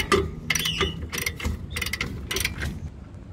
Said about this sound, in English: just tightening up the last of this caliper now, just using the wrench, the ratchet I should say